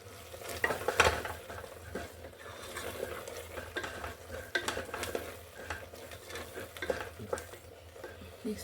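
Frying in a pan with spoon stirring: a soft sizzle sits under irregular scraping and metal-on-pan clinks, close up and moderately quiet, with a louder clatter near the start.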